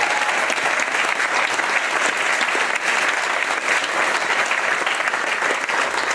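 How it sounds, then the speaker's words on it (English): An audience gives dense, sustained applause at an environmental award event, many hands clapping loudly and evenly from start to finish. "let's clap for Ellie"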